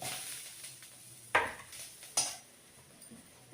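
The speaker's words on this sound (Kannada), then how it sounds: "ಒಂದು ಅರ್ಧ ಸ್ಪೂನಷ್ಟು ಎಣ್ಣೆ ಹಾಕೋಣ ಈರುಳ್ಳಿ ಕಟ್ ಮಾಡಿರೋದು" Chopped onion frying in a little oil in a pan, a soft steady sizzle with a few sharp scraping clinks of a spoon against metal, close and without talk.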